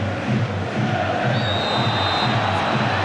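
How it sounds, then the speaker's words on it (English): Football stadium crowd at the 1997 Italy vs England World Cup qualifier, a dense, loud roar of cheering and chanting that swells steadily throughout. "The crowd have just lifted themselves, Brian, as if they realise that they've got to try and play their part now"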